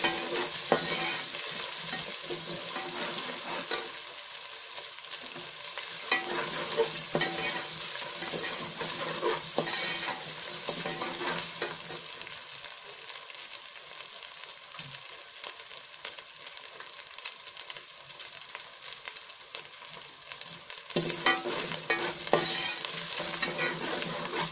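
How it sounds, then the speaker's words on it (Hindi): Potatoes and cauliflower for Punjabi aloo gobi being stir-fried in a pan, a steady sizzle running throughout with scraping stirs of a spoon recurring every few seconds, close and fairly loud, no voices. "अब इसको मिक्स करके भूनेंगे।"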